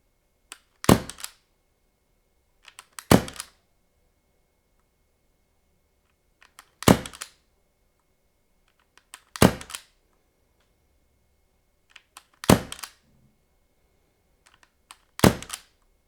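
A Tokyo Marui SOCOM Mk 23 airsoft pistol fires six separate crisp snapping shots, each with a small click just before it, spaced a few seconds apart in near silence.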